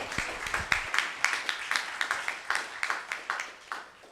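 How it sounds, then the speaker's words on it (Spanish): Moderate audience clapping follows a panel talk on open data and city management, with a scattered, uneven rhythm of distinct individual claps that continues steadily without talk. "Fuerte aplauso"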